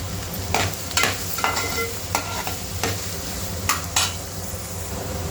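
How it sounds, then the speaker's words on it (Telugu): Two large onions and curry leaves frying in oil, a steady close sizzle broken by several sharp scraping strokes of a spatula stirring the pan, with no voices. "ఈ ఆయిల్లోని 2 ఉల్లిపాయలు, ఒక పెద్ద సైజు ఉల్లిపాయలు పోసుకొని ఫ్రై చేసుకున్నాం."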